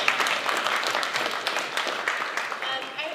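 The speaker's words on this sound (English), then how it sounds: "Can we clap for that one more time because it's so important?" Moderate applause from a film festival panel audience in New Orleans, a few seconds of steady clapping at mid distance with voices mixed in beneath it.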